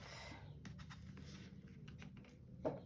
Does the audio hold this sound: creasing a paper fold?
yes